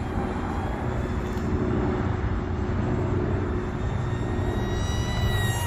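A micro RC F-16 model plane flies at full throttle, its small electric motor giving a steady, continuous buzzing whine that holds at an even level throughout with no talking.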